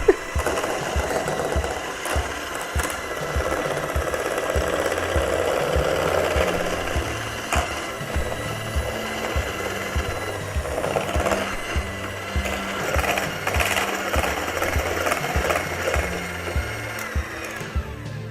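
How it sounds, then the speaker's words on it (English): An electric mixer whips homemade body butter, its motor whirring continuously for a long stretch with a rattling, choppy texture, close and fairly loud. "you're going to whip it for about 10 minutes or more till it gets super creamy, like a whipped cream, and like fluffy"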